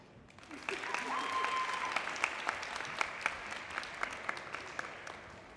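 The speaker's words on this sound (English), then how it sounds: "Now, a round of applause for Mrs. Rutherford." An audience at a school career institute ceremony claps in a room, applause rising quickly and holding steady, with individual sharp claps standing out and a faint tone audible underneath.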